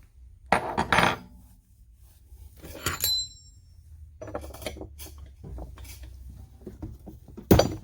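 Metal tools clink and scrape while the flywheel nut comes off a Stihl BR-200 backpack blower, a series of close, sharp metallic knocks and rattles with short pauses in between.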